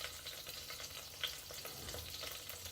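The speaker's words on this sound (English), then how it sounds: "I'm going to throw in the spice first to fry in the oil a bit." Spice frying in heated oil in a pan for a samp and chicken dish gives a soft, steady sizzle with faint crackles, quiet and continuous throughout.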